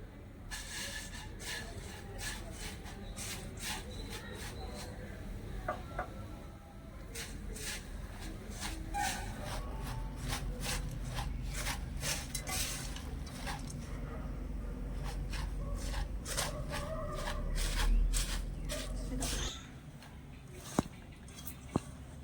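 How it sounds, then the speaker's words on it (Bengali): Puffed rice being mixed by hand with thin jaggery syrup for Joynagar moa, a steady crackly, squishy rustle of the grains, close and fairly quiet, with soft handling clatter and no talk. "এই খইয়ের মধ্যে এই একতারের এই রসটা দিয়ে অল্প অল্প করে মেশাতে থাকবো"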